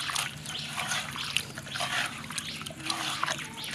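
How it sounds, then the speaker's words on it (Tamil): Fish are washed with rock salt in water in a pot, with continuous close sloshing, splashing and trickling as they are stirred and rubbed by hand. "4 தடவை இந்த மாதிரி இப்போ கழுவி எடுத்தோம்னா நல்ல வெள்ளையாக வந்துடும் மீன்"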